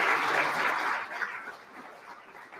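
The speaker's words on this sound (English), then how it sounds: "can you stand and give Kristen an applause?" Applause at an art show opening ceremony in West Michigan, a brief burst of clapping from the audience that is strongest at first and then fades into scattered claps.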